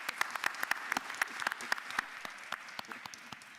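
A small audience at a county board of commissioners session applauds the chief and the county attorney with scattered, distinct claps that thin out toward the end.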